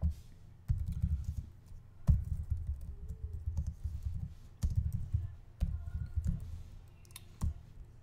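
Typing on a Portuguese-layout computer keyboard, with soft, rapid clicking keystrokes that come in short bursts separated by brief pauses, heard close and alone with no speech.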